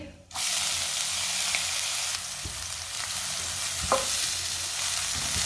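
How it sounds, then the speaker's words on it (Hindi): Finely chopped onion frying in a pan while potato tikki are made, a steady loud sizzle starting abruptly and continuing throughout, with a few light stirring scrapes and taps. "एक बारीक कटा हुआ प्याज डाल लेंगे"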